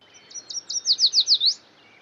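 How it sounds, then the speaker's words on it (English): Yellow warbler song: a bright, high series of about eight quick sweet notes that speed up and slur together at the end, clear and close over a quiet background. "At number 7, yellow warbler."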